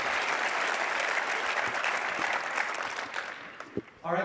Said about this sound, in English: Let's give one more round of applause for Coach Kevin Young.